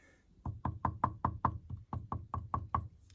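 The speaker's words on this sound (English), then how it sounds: "You can hear that tap test. It's pretty inert" About a dozen evenly spaced knuckle taps on the solid wooden cabinet of a Focal Chora 806 speaker, close and dull, with a short pause midway.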